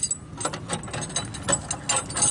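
A ratchet strap is cranked for a vehicle rescue setup, its pawl clicking in a steady run of sharp, close ratcheting bursts that carry on without a break.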